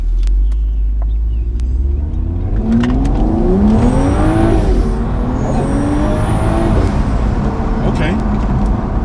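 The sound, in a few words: tuned BMW N55 car accelerating in Sport Plus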